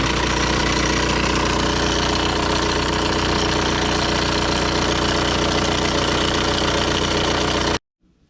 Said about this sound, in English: Hear something rattling under the hood.